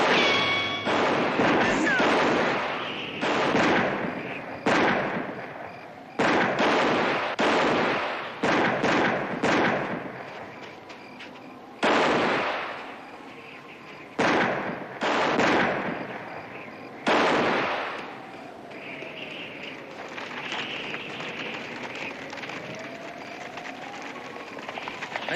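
Gunshots ring out in a Western TV gunfight, a series of loud, sharp cracks spaced irregularly over the first two-thirds, each followed by a brief echo, with quieter ambience and some dialogue around them.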